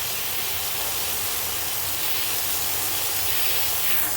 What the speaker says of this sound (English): So we want to actually take our steam and push out all of that